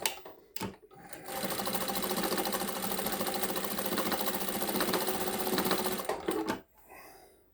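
A Sewtech SW-1968-L sewing machine runs a decorative quilting stitch, a fast, even mechanical whir with rapid needle ticking for about five seconds, starting and stopping with brief clicks, close up and with no talking.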